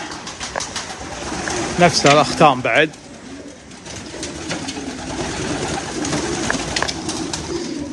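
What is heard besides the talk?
French pigeons cooing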